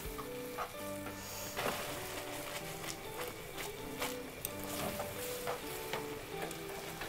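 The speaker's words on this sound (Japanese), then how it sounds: "バターをですね溶かしながら、めちゃくちゃ美味しそうな感じです" Butter melts and sizzles in a pan with shimeji mushroom and bacon pasta. A steady, dense frying hiss runs throughout, with soft stirring scrapes and light clatter and no talking.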